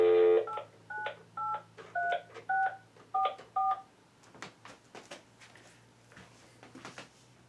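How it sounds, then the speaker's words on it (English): A ZTE MF279 AT&T 4G router phone line beeps out a quick run of about eight touch-tone dialing tones in steady rhythm, clear and close, followed by softer clicks and handling noises over a low hum. "Now watch those colored lights when I dial the phone."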